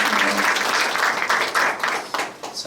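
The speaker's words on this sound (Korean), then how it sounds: "우리 감사한 마음으로 따뜻한 박수 축복하겠습니다." A congregation at a church mission forum service gives warm applause for the preacher, a dense burst of clapping that holds steady and then thins toward the end.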